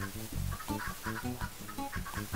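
Chickens clucking in a video game, a steady run of short rhythmic clucks repeating close up and moderately loud, with no voices over them.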